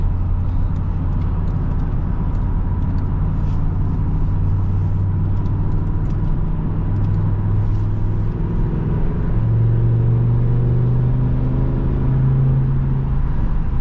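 A 2007 BMW M6 V10 engine drones steadily while the car drives, a deep rumble that rises and falls slightly in pitch, with no talking.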